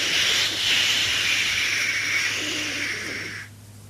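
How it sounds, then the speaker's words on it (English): Steam locomotive on a station platform venting steam: a loud, broad hiss rushing steadily for about three and a half seconds, then cutting off abruptly to quiet. "he had to let off steam to show how happy he was"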